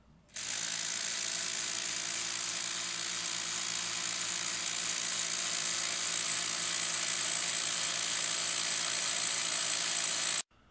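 Cordless impact drivers, a Hercules HC81B and a Ridgid R86002, hammering on a test dyno; a loud, continuous rapid impact rattle with a high whine starts abruptly and runs steadily for about ten seconds before cutting off.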